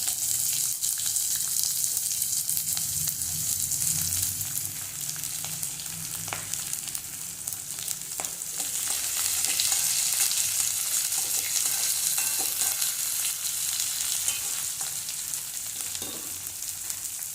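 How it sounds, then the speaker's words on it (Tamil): Steady, loud sizzling of chopped onions frying in a hot pan, continuous throughout with occasional faint scrapes and pops. "வெங்காயம் வதங்கட்டும்."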